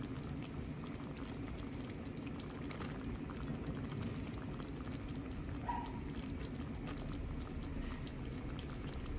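Fresh string beans simmering in a pot of boiling natural coconut milk: a steady, dense bubbling and gentle popping, fairly quiet and even throughout, with no voices.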